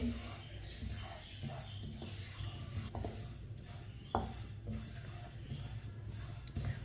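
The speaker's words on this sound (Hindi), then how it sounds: "कम आंच पे तिल को भूनना है।" White sesame seeds roast in a pan over a low flame, with steady soft stirring and light scraping against the metal, close and continuous under a faint background hum.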